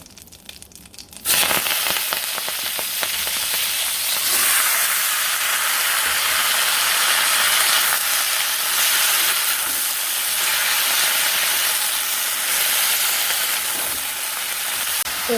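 Bay leaf, cumin and vegetables drop into hot oil in a village kitchen, setting off a sudden loud, steady hiss and sizzle that keeps going for the whole stretch, with no talking.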